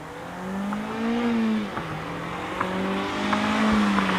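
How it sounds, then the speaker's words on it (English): A four-cylinder Mazda MX-5 with an Ultra Sport exhaust passes by, its engine note rising and falling through gear changes and revs, loud and fairly close with a steady droning tone. "this beautiful 4-cylinder Mazda MX-5 with the Ultra Sport exhaust"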